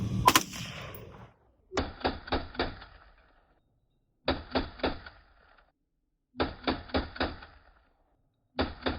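A Delta Team Tactical FRT-15L3 rifle fires four separate rapid bursts of about four to five sharp, close, loud shots each, with brief silent pauses between bursts.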